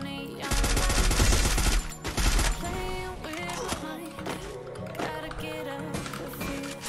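Rapid automatic gunfire from the battle-royale game Free Fire, loud bursts of machine-gun fire for about two seconds, then scattered shots and sharper impacts under game effects.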